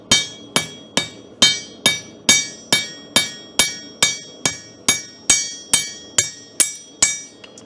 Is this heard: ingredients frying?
no